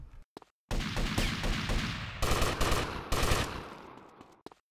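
Shotgun blasts boom in the video game GTA Vice City, several heavy shots in quick succession with brief gaps between them, loud and close with no talk.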